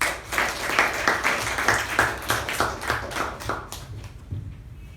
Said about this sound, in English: Please help me welcome Toastmaster Sanchit with a huge round of applause.